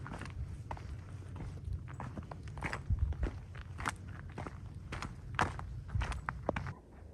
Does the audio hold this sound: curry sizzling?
no